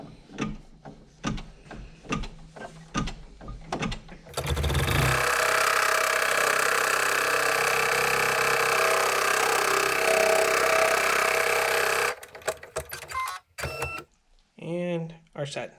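An embroidery machine stitching the final tack-down on a facemask, giving a steady mechanical whir and rapid needle clatter that runs unbroken for several seconds, loud and close, with speech before and after.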